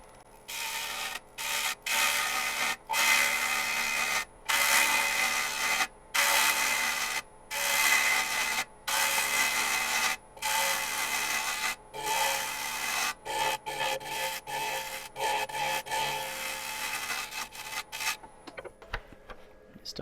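A wood-turning tool cuts a spinning maple crotch bowl on a lathe, giving a loud, close, rasping hiss in long strokes separated by brief gaps, then shorter rapid passes before it winds down.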